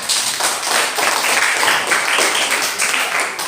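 Classroom applause from students after a group presentation, a burst of quick scattered clapping of moderate loudness that continues steadily for a few seconds.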